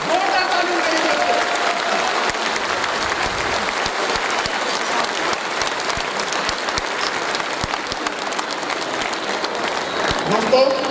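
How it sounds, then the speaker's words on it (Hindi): A large audience applauds steadily for eleven seconds, dense clapping that stays loud throughout, with a voice speaking faintly beneath it. "ताली बजाइए।"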